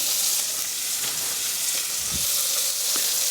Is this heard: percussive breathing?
no